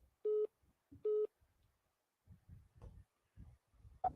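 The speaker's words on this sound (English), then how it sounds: "your phone cut off, man" A telephone call cut-off tone sounds as two evenly spaced electronic beeps, followed by faint scattered handling and background noise.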